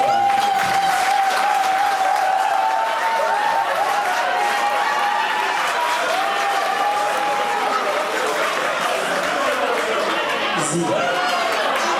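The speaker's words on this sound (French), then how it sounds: "Applaudissons-toi" Party guests clap for the birthday star at a Cameroonian-style birthday celebration, with sustained, dense applause mixed with crowd chatter and a wavering tonal sound running underneath.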